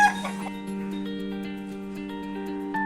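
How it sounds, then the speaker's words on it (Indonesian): Hens and a rooster cluck close by, a steady run of short clucks layered over a sustained tonal background that sounds like music. "Aya hayam bikang, aya hayam jago."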